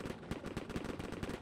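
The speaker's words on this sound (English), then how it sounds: "That's a very loud gunfire fight." Rapid bursts of gunfire crackle continuously, a dense volley of shots at moderate distance, in the VR video game Ghosts of Tabor.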